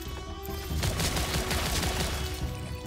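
Rapid gunfire after a reload in the zombie shooter Zombotron Remake, a short dense burst of shots lasting a couple of seconds over game audio.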